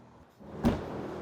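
A Land Rover Defender 90 door shuts once with a single soft, solid thud, close by and otherwise quiet.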